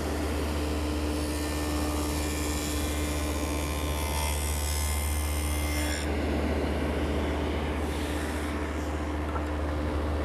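A table saw fitted with a stacked dado head cutter set to maximum width hums steadily while tenons are cut in wood pieces guided by a miter gauge against a sacrificial fence, with the cutting noise changing partway through.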